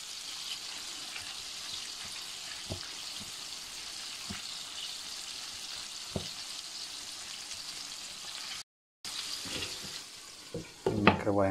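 Hake frying in butter in a pan gives a steady, fairly faint sizzle throughout, with a few soft stirring clicks, a brief cut near the end, then sharper clatter.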